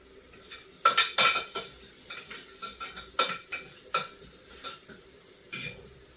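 Garlic toasting in a pan while it is stirred with a utensil, giving a string of sharp clinks and scrapes against the pan over a faint, steady sizzle, close and moderately loud.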